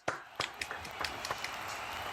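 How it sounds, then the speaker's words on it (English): Audience applause for contestants at a Toastmasters speech contest begins as a few distinct claps and thickens into a soft, continuous patter of many hands. "All together now for our contestants and a rousing round of applause"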